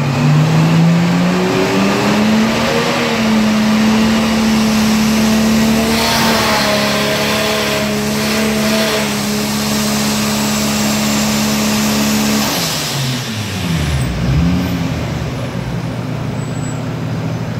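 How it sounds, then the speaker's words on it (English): Turbocharged Lexus GS300 on a dyno during a power run, engine note climbing steadily and loud, holding high revs, then dropping off sharply as the run ends, with a faint whoosh near the close. "So we're starting to do some power runs by the looks of it, just to when the wastegate opens up."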